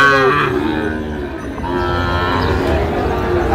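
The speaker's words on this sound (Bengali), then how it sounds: "অনেক সুন্দর সুঠাম দেহের গরু, সব ডাবল নাভি" Sahiwal cattle at a busy livestock market give a loud, close moo that fades out, followed by a steady din of crowd and animal noise.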